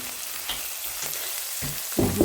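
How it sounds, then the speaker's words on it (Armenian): Onion and pepper fry together in a pan with a steady close sizzle, then a louder burst of crackling at the end as the pan is stirred. "Ավելացրեցի արդեն պղպեղը, չթողեցի շատ սոխը կարմրեր, հեսա միասին էլ մի քիչ կտապակվի"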